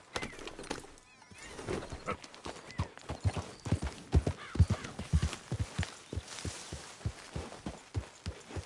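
Horse in Red Dead Redemption 2, with a close, loud run of clip-clopping hooves that picks up into a quick, steady rhythm and a neigh mixed in, heard alone without talk.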